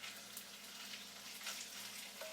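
Chicken frying in grease in a pan gives a steady, close hiss and crackle that runs without a break. No one talks over it.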